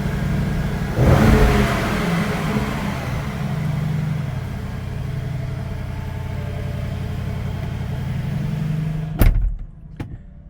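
Deep, throaty revving from a 2019 Bentley Bentayga 4.0-litre V8 swells and holds steady up close, then cuts off near the end, followed by a brief door or window mechanism sound and near silence.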